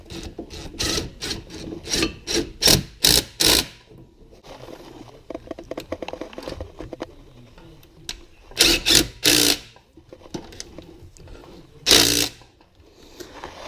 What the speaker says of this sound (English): then you take your impact 3/8 and you just tighten them on